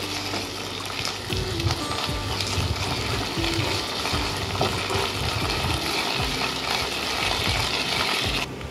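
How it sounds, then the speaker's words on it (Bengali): Ginger garlic paste sautéing in a hot pan for a creamy egg lababdar curry, a steady close sizzle and frying crackle with occasional stirring scrapes throughout. "এরপর আমরা এর মধ্যে আদা রসুন বাটা দিয়ে আবার আমরা ভালো করে এগুলোকে কষিয়ে নেব"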